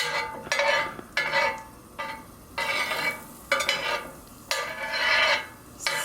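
Plantain pancake batter stirred and scraped on a hot grill pan, rhythmic rasping strokes with faint sizzling in between, close and fairly quiet, no talking.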